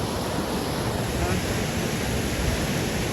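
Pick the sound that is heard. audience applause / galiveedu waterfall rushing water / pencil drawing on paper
galiveedu waterfall rushing water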